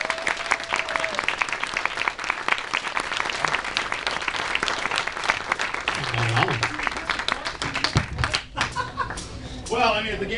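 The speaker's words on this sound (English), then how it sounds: "Give him a round of applause." Audience applause at a convention voice acting panel, a dense wash of many hands clapping that runs throughout, with a few chuckles and voices mixed in near the end.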